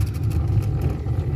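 A rail lorry's engine throttles up to move off, a loud, close, low droning rumble with a slight rising, pulsing quality, no voices.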